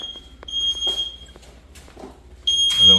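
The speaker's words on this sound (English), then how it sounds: "And then we have our alarm here." A fire alarm set off by a waterflow switch test sounds a steady high-pitched tone that cuts in late and loud, after a stretch of quiet clicks and handling noises.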